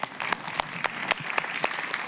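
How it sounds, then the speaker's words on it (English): Banquet audience at a legislative awards dinner gives a short burst of applause, sharp individual claps standing out over a steady patter from a modest crowd. "we'll applaud that too"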